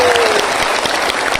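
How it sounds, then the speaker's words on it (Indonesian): Loud applause from an audience at a hadrah sholawat gathering in Chaiwan, Hong Kong, dense steady clapping filling the short moment with a faint tone fading early. "Tepuk tangan untuk Az-Zahir."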